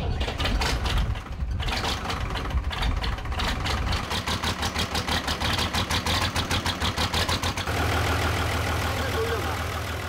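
A farm tractor engine runs steadily at close range, a rapid regular throbbing beating through the clip with a shift in tone near the end; voices are faintly present underneath.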